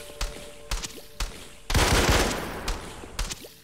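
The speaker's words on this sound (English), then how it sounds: "Oh, makes some explosions." Gunfire and explosions in the Garry's Mod video game: sharp separate shots at uneven intervals, then a big loud blast with a rumbling decay before more single shots.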